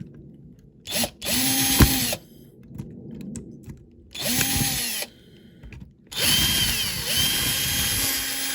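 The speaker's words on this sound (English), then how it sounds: "Right, a bit more drilling in." Power drill boring out rivets on a Corgi Buick Regal banger racing car, three separate whining bursts of drilling, each a second or so long, with short quiet gaps between them, close and loud.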